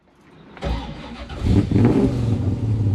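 A big-block 1966 Impala SS with a four-speed fires up after a quiet start, catching sharply then building into loud, close revving with a deep rumble that holds steady to the end.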